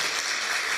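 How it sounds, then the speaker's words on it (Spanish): A church congregation bursts into applause during a sermon, a brief dense wash of many hands clapping at once, filling the room. "Un aplauso para Él."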